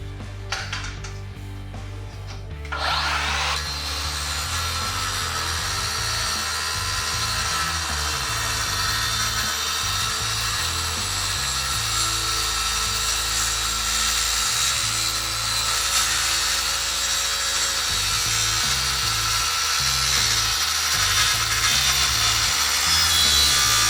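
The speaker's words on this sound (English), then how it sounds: "the first thing we're going to cut here is schedule 80 stainless steel" Cordless circular saw fitted with a Diablo Cermet II carbide metal-cutting blade spins up after a brief pause, then grinds loudly and steadily through schedule 80 stainless steel pipe for about twenty seconds, a harsh high whine over a motor hum.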